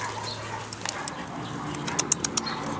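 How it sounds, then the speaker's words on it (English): A small puppy whimpers softly in a few brief, high thin cries scattered over low indoor background noise. "This is a sweet baby doggy."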